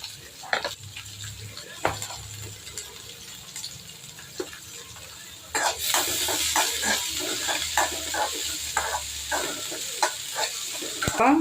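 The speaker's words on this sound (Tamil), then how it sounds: "சின்ன வெங்காயம், பெரிய வெங்காயம், கருவேப்பிலை, 2 பச்சை மிளகாய் எல்லாம் போட்டு நம்ம வதக்கிக்கலாம்." Shallots, onions, curry leaves and two green chilies tossed into hot oil after mustard seeds pop for sambar, with a soft sizzle that swells partway through, plus scattered clinks and scrapes of stirring in the pan.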